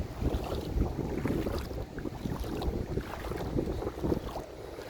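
Small Filipino outrigger boat (bangka) travelling on the sea off Calatagan, Batangas, with steady broadband wind and water rush buffeting the microphone, a continuous loud roar with no talk.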